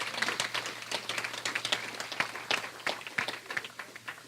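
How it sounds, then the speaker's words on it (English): Dinner guests applaud the two cooks who prepared the evening's meal, a quiet room of scattered hand claps with uneven, fairly sparse rhythm, heard alone. "Can you give them a round of applause?"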